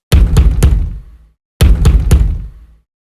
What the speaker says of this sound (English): The knock came again, louder this time